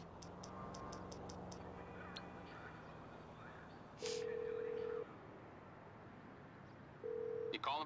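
Touch-tone phone dialing in a video game: a few quick ticks at first, then two steady, loud dial beeps separated by a pause, with no one speaking.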